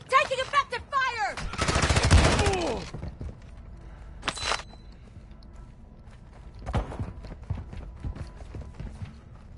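Gunfire in a shooter video game: rapid bursts of shots crackle in quick succession, then a dense sustained volley, followed by a few isolated sharp reports spaced out over several seconds against quieter background game noise.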